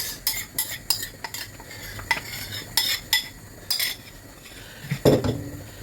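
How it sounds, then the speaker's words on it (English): A spoon clinks and scrapes against a pot again and again as dissolved ogbono is scooped into a goat meat ogbono soup, giving irregular metallic taps with a heavier clunk near the end. "So I'm adding the ogbono now,"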